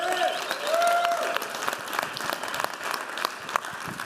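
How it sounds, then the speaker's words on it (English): An audience at a business mastermind event in Dallas applauds a speaker, a dense patter of clapping from a crowd in a room that starts full and thins out over a few seconds. "Right, give him a round of applause."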